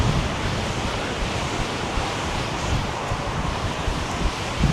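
Strong Storm Amy wind roars through Glasgow city centre as a dense, continuous rush buffeting the microphone, loud and unbroken with no voices.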